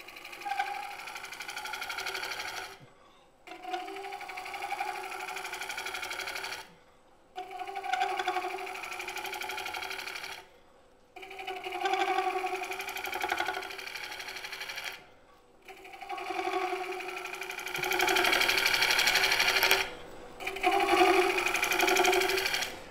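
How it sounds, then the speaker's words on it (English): A bowl gouge shear-scrapes a wooden bowl spinning on a wood lathe, a close whirring, scraping hum that runs in five or six bursts of a few seconds each, broken by short silent gaps. "I'm going to shear scrape that groove out of there so we have a nice smooth surface"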